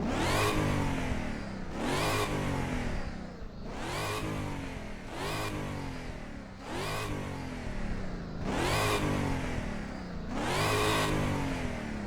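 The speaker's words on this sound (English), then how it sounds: "it sounds pretty accurate to the actual Dodge Challenger in real life" A Dodge Challenger in the racing game Midnight Racing: Tokyo revs hard about seven times, each rev rising and then dropping in a regular rhythm. The engine sounds loud and close, with no voices.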